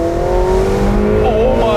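A McLaren 720S Spider with a twin-turbo V8 accelerates hard, its loud, close engine note holding steady and then climbing, with a voice audible alongside it.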